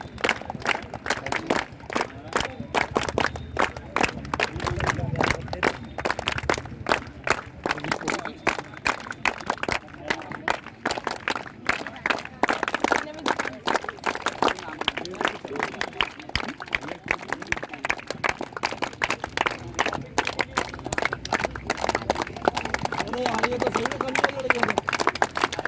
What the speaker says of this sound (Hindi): ताली तो बड़ी मजबूत होना चाहिए और एक साथ